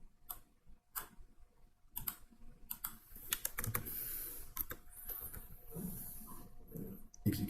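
Keys clatter on a computer keyboard in uneven bursts of close, crisp taps as a value is retyped, with quiet pauses between strokes and denser typing in the middle.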